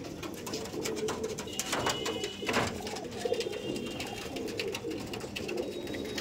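Pigeons of a Madrasi flying breed coo softly in a loft, repeated low murmuring calls over a continuous background hum, with a brief sharper sound midway.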